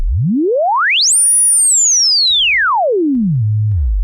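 A Eurorack synth low-pass filter self-oscillates as a pure sine tone, sweeping up from a low rumble to a high whistle, holding, then gliding back down to a low hum, loud and clean with faint clicks.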